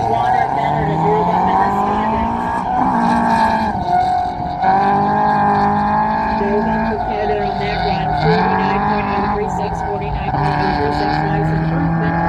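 A 2003 Subaru Impreza race car in the STH class runs an autocross course, its engine loud and continuous, the pitch climbing and dropping as the driver shifts and goes on and off the throttle.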